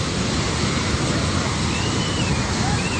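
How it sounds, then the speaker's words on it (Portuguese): Floodwater released from a dam after a mudslide in Nepal roars in a steady, dense rush, loud and continuous throughout with no pauses, a broad churning wash of water filling the whole scene. "Olha a força que ela está vindo. É muita água."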